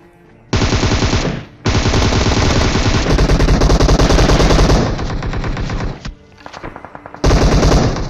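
Automatic gunfire in a battle royale video game match at Pochinki: long, loud machine-gun bursts rattle almost continuously, with short pauses and a final burst near the end.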